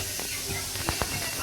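Whole cumin seeds dropped into hot oil give a steady, even sizzling hiss with a few faint clicks and pops, heard close.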